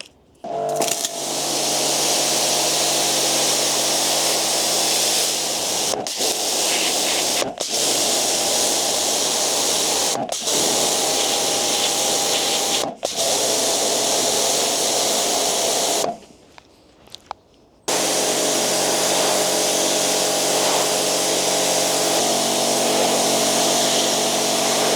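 A V-TUF pressure washer sprays with its high pressure nozzle, loud steady hissing bursts with an engine-like drone, cut by several short pauses and one longer break of about two seconds.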